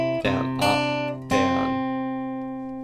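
A close acoustic guitar plays the last little section of a song's pre-chorus in a down-up-down strumming pattern, three bright strums with the final chord left ringing and slowly fading.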